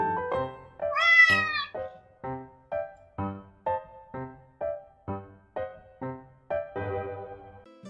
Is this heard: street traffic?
no